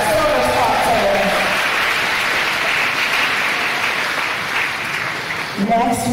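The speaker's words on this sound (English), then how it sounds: "Big round of applause for our silver sponsors" A gala crowd at a 2023 charity event claps for its silver sponsors, a broad, sustained wash of applause, with a voice briefly audible near the start and again at the end.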